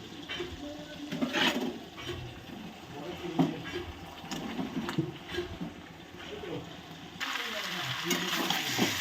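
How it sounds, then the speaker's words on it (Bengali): Fried mixed vegetables being stirred into spice paste in a pan for a Bengali labra, with irregular scraping and clattering over a sizzling background and some talk, the sizzle rising louder near the end. "এবার আমি এর মধ্যে ভেজে রাখা সমস্ত সবজিগুলো দিয়ে দেবো।"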